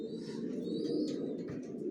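Racing pigeons coo in a loft, low soft rolling coos overlapping steadily, with a few faint higher chirps above and no voices.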